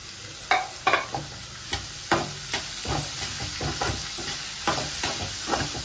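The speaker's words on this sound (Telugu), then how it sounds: "ఉల్లిపాయలు కూడా అండి బాగా వేగనివ్వాలి, బాగా ఎర్రగా వేగితే టేస్ట్ బాగుంటుంది" Onions sizzle in a pan, and a spoon scrapes and knocks against the pan in irregular strokes as they are stirred. The stirring sounds close, with no talking.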